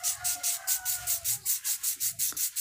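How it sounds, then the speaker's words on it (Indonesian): Fine 400-grit sandpaper rubbing by hand over a part of a Butterfly sewing machine, a steady back-and-forth rasp of about a dozen even strokes, close and fairly loud, with no talk. "Nah, kita amplas sampai dia halus, luar dan dalam ya."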